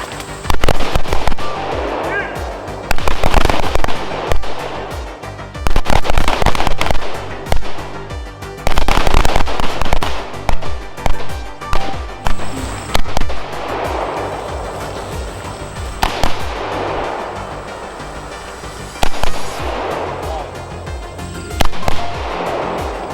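Loud, close carbine rifle shots on a tactical training course, fired in separate bursts of several rapid rounds with short pauses between them, each crack ringing out sharply, while a voice calls out commands among the shots.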